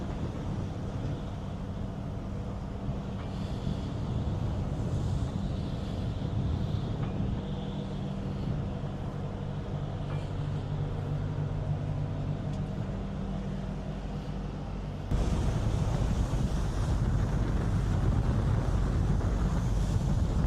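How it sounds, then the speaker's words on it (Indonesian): Strong wind buffeting the microphone on a ship in heavy rain at sea as a tugboat and vessels maneuver to dock, a steady broadband roar that grows louder near the end. "Anginnya kuat guys."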